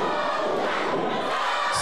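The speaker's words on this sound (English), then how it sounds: "But you can listen to the crowd respond." A wrestling crowd at the Walton County Fairgrounds roars and yells steadily throughout, a dense wash of many voices at close range with no pauses.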